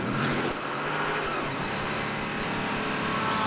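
Race car at Iowa Speedway during a 2007 Grand American 400k, rolling down pit road with a steady, loud engine drone and slight throttle changes, close and continuous with no voices over it.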